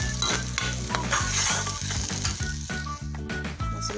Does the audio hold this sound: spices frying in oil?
yes